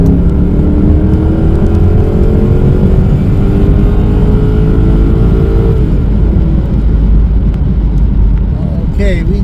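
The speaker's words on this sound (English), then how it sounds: "I'm going to floor it here for you and take a listen." Jaguar XK8 4.0 litre V8 at full throttle in sport mode, engine pitch climbing steadily through the revs then dropping at a gear change, loud and continuous from inside the cabin.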